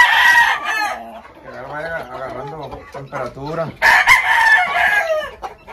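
A gamecock is heard crowing and clucking up close and loud, with bursts at the start and again near the end, while someone talks in Spanish between the calls.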